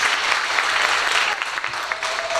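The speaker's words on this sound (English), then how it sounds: "let's start by giving Anissa Arnold a huge round of applause" Audience applause for the director of performing arts at a school district's middle and elementary school spring art show, a thick, steady roar of clapping from a crowd, loud and continuous throughout.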